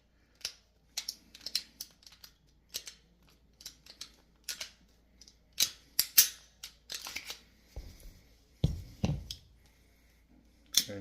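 Small metallic clicks, snaps and clacks of a firearm being field stripped and its parts handled, a sparse series of sharp, close, fairly quiet hits with pauses between them.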